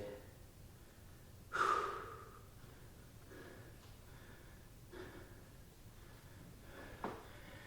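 Slow, deep breaths during a yoga session rise and fade softly, with one fuller inhale early on and fainter breaths following, close and quiet.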